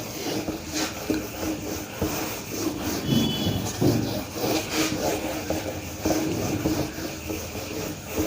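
Rubbing strokes of an eraser wiping a classroom board during a maths lesson, a steady scraping texture repeated continuously and fairly close, with no talk.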